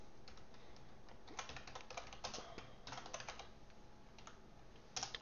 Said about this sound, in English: I think I'm just typing too fast for my brain.